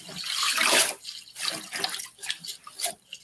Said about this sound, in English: This is just water.